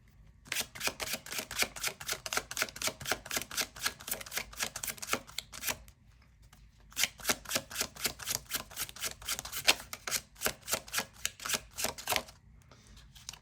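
Tarot cards riffle-shuffled in quick, crisp bursts of rapid flicks, two long runs split by brief pauses, close and clear with no voices.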